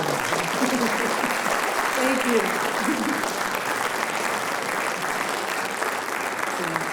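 An audience at a school writers expo claps steadily after a poet's reading, a dense and continuous wash of applause. A voice speaks briefly over it.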